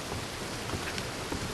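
Rain in the video game Red Dead Redemption 2, set in Annesburg: a steady, soft wash of falling rain with faint scattered drops, continuous and without voices.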